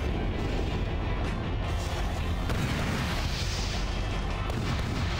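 Missile explosions in Armored Core 4, a continuous rumbling barrage of booms and blasts layered over a dense roar of game noise.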